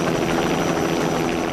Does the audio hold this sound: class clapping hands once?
no